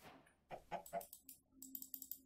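Chickens in the Minecraft video game give several soft clucks in a quiet, uneven series. A short burst of game sound effects follows near the end.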